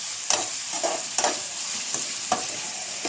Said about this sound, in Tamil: இப்போ இதை நல்லா கிளறி விட்டுருங்க.